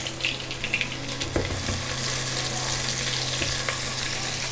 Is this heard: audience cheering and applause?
no